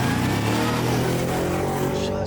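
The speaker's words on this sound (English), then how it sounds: "Just like you hear that supercharger" The supercharged engine of a Ford F-150 Raptor R accelerates in a loud, continuous roar with a rising whine layered over dense rumble, close and steady throughout.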